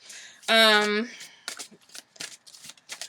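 A deck of oracle cards is shuffled in crisp, scattered riffling bursts right after a brief sung-like vocal tone, with soft speech around them.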